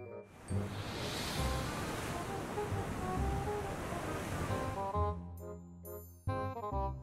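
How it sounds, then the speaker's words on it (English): Sea waves surge and wash in a steady, full roar of surf for about five seconds, then give way to soft, gentle musical tones. "Sea."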